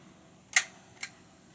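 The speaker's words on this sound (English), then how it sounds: "Let's hear that shutter." Yashica Electro 35 GTN rangefinder camera shutter firing twice, each a crisp close mechanical snap, the first louder, about half a second apart, with no talking.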